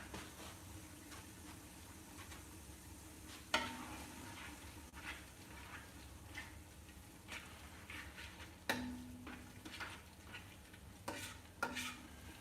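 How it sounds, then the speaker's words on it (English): Food sizzles quietly in a pan under a soft steady hiss, broken by occasional sharp clinks and scrapes of a utensil. "Don't worry, the sizzle hasn't gone anywhere."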